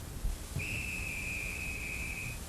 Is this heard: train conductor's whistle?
yes